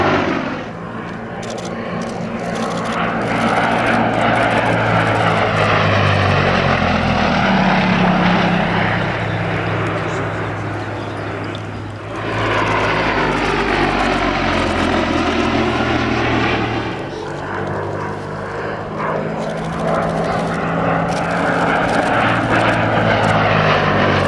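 A Gloster Gladiator biplane's propeller engine drones overhead at an air show, swelling and fading as it makes repeated passes, fairly loud and steady with no voices.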